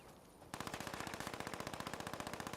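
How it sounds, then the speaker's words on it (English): A Tesla gun in Fallout 76 fires in rapid automatic bursts like a machine gun, a dense, loud, evenly paced stream of electric shots starting abruptly after a brief quiet moment. "Is it just a Tesla gun? Hold on. I think it is. Yeah, it is. But it's like a machine gun."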